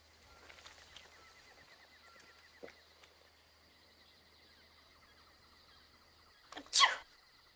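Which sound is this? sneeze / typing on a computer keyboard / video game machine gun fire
sneeze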